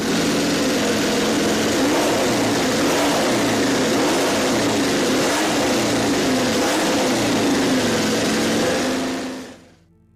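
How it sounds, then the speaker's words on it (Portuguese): A MotoCzysz C1 superbike engine revs hard with a deep, V8-like roar, a loud sustained drone with wavering pitch that holds steady and then cuts off abruptly near the end. "o motor acelerava rapidamente até o máximo de rotações, com um som americano, semelhante ao de um V8"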